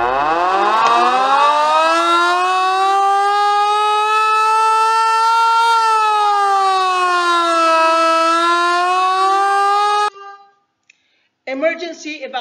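A loud emergency alarm siren at a construction site safety training, one long sustained wailing tone that rises and falls slowly, then cuts off and is followed by a brief electronic tone.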